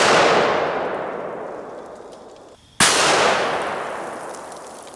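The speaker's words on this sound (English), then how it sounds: "let's hit it with the 500 Smith & Wesson Magnum" A 500 Smith & Wesson Magnum revolver loaded with Underwood 500-grain jacketed lead flat-nose rounds fires at a 380 lb Atlas stone outdoors: two loud, sharp blasts about three seconds apart, each trailing off in a long, fading echo.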